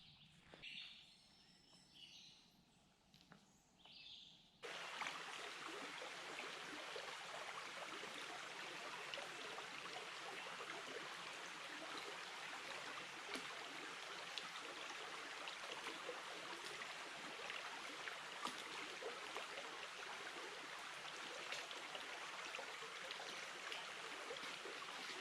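Dutchman's Creek flows through a young forest of small trees, a steady broadband rush of running water filling the whole clip after a brief quieter start with faint bird calls.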